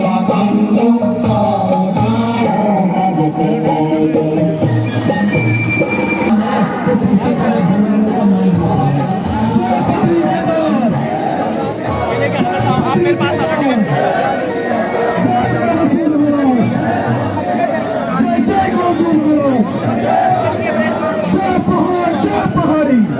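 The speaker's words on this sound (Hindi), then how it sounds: "भीड़ यहाँ पे हजारों की संख्या में।" A crowd of thousands at a protest rally in Uttarakhand, with a dense, steady babble of many voices and shouting throughout, loud and unbroken, with voices rising and falling in a continuous hubbub.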